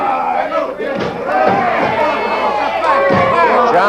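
A woman yells loudly and repeatedly from close by in a pro wrestling arena crowd during a tag-team bout, her shrill cries rising over constant crowd noise and shouting.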